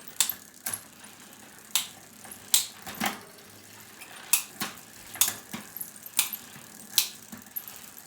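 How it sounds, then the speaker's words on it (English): A bicycle rear gear shifter clicks repeatedly while the derailleur limit screws are tested, sharp isolated ratcheting clicks at irregular intervals, close and fairly crisp against a quiet room. "I'm just going to keep pulling on the shifter here to tension the cable a bit more"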